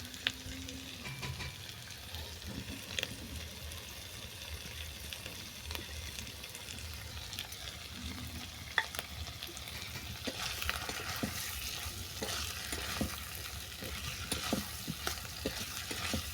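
Hilsa fish head and ol greens fry in a pan with spices and coconut powder while they are stirred. A continuous low sizzle runs throughout, broken by scraping stirs and a few soft knocks, with no voices.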